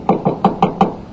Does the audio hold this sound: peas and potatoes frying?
no